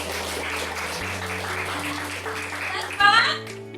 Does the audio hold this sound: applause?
yes